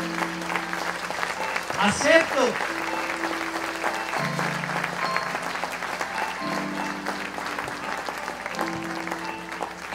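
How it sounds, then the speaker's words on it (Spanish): Church congregation breaking into applause from around 2 seconds onward, a steady wash of clapping beneath a preacher's ongoing speech and held sung or spoken tones. "Dale un fuerte aplauso al Señor."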